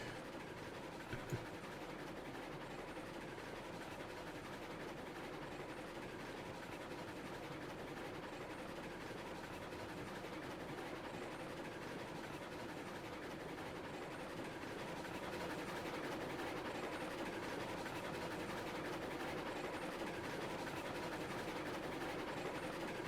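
Freight train pulling out in Railroads Online, heading off on a coal mine run: a steady rumbling roll of cars with faint rhythmic clatter that holds for over twenty seconds and swells slightly toward the end.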